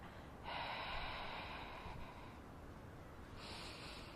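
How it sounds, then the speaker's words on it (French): A steady, breathy exhale during an abdominal breathing exercise for flattening the belly, a soft rushing breath lasting about a second and a half, then a second exhale starting near the end, close to the microphone with no talking. "Simplement, je souffle et je fais descendre mon nombril."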